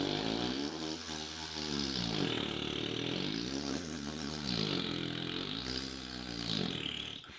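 Vocal lip bass made by buzzing the lips, a buzzy low tone sliding up and down in pitch in repeated swells, close and sustained, a voice imitating a bass instrument.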